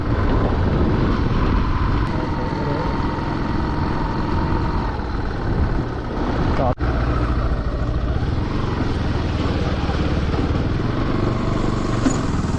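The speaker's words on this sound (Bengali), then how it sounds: "ইঞ্জিনের সাউন্ডটা যথেষ্ট স্মুথ" A motorcycle engine runs steadily at close range during a ride, a loud continuous drone with a brief click partway through and no voices.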